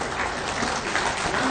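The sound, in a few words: audience applause at appointment letter ceremony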